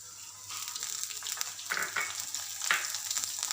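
Ginger and garlic frying in a pan for a quick curry, with a steady close sizzle and occasional stirring scrapes, without talk.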